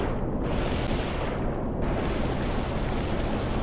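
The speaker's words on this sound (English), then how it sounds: "Listen to them engines" Ship engines in the video game Stormworks: a loud, steady engine roar with a broad rushing, churning texture, constant throughout, like heavy ship machinery with water noise.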